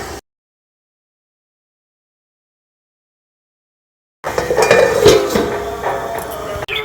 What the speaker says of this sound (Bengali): এই যে দেখুন, এইভাবে খুন্তি দিয়ে কিন্তু ছাড়িয়ে নিচ্ছি।